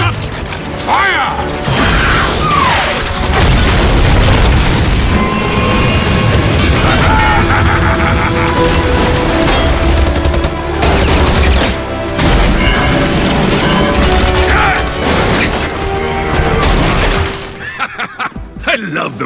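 Loud, dense game combat in Overwatch, with rocket fire, booming explosions and crashing impacts piling up almost continuously, with voices shouting over the chaos.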